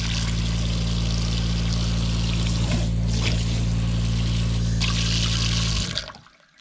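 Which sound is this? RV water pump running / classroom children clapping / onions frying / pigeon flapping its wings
RV water pump running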